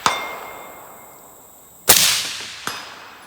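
A sharp competition rifle shot cracks out, then a louder distant report with a ringing metallic clang from a steel target at 200 yards and a fainter hit after, in quiet surroundings.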